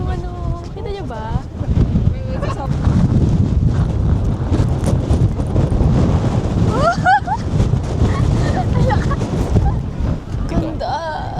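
Strong wind gusting steadily across the open flats of Gaomei Wetlands, roaring into the microphone the whole time, with people talking and exclaiming under it.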